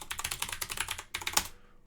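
Rapid typing on a computer keyboard while entering a terminal install command: a quick, uneven run of close keystroke clicks, a short pause, then a final burst and a harder keypress before it falls quiet.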